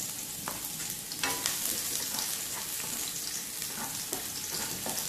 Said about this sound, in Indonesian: Setelah minyak panas, kita masukkan, teman-teman ya, masukkan bawang merah, bawang putih.